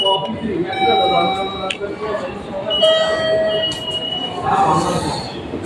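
A train pulls into Kinshicho station in Japan, with rumbling wheels, high whining and squealing tones, and a chime or alarm-like signal over the platform bustle. People talk in the background.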